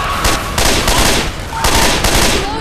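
Rapid bursts of gunfire from the zombie shooter game Left 4 Dead 2, on the Shipyard of the Departed level, crackle loud and close in several dense volleys with brief gaps between them.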